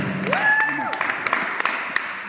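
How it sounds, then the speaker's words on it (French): A church congregation offers scattered applause for a woman who has just delivered a message, with distinct claps over a sustained sung or spoken tone at the start. "Est-ce qu'on peut offrir aussi une main d'acclamation à notre sœur"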